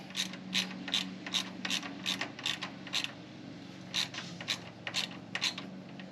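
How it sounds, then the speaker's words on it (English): A ratchet wrench tightens a bolt on a front shock of a Chevrolet Monte Carlo, giving a steady run of close, crisp clicking bursts that come in a regular rhythm with brief pauses, under a low background hum. "So what I like to do is just hold the center of the ratchet."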